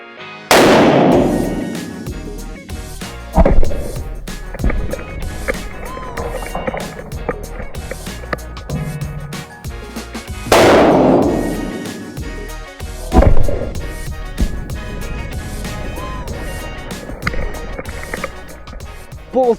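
Two sharp, loud rifle reports crack in the desert, one from a 6.5 Creedmoor and one from a .308, each hitting milk jugs and followed by a long rolling echo, the pair spaced roughly ten seconds apart.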